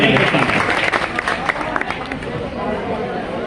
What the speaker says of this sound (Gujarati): એકવાર જોરદાર તાળી થઈ જાય બેન